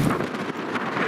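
Strong wind buffets the microphone on an open farm among cover crop beds, a loud continuous rumbling roar with gusty swells across the short stretch.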